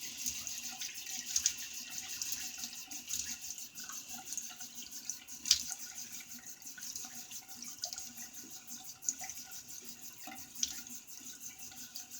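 Tap water runs steadily from a bathroom faucet while a face is wetted for a wet shave, a soft continuous splashing hiss with a few brief louder splashes.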